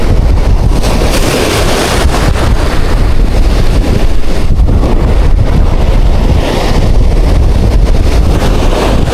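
Strong wind roars and buffets the microphone nonstop on a shoreline in Borongan City, Eastern Samar, Philippines, with the wash of surf rolling underneath; no voices.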